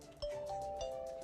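A two-tone doorbell chime rings out clearly in a loud studio setting, two bright dings spaced about half a second apart with sustained ringing tones.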